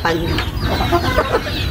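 Pet chickens in a backyard flock, likely Asil fowl, cluck in short, close bursts over a steady noisy background, a few calls overlapping.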